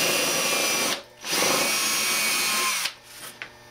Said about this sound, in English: get our injury attorney phone book and drill a hole